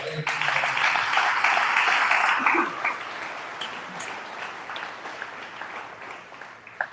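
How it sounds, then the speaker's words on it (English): Audience applause at a commercial realtors' association gathering, a dense burst of clapping that is loudest for the first two seconds, then thins and fades with lingering scattered claps to the end. "let's give this group a big round of applause"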